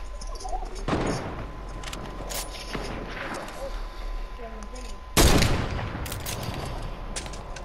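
Sniper rifle shots crack in a Fortnite match, one sharp report early and a louder, heavier blast later, each ringing out over busy game ambience with faint voices underneath.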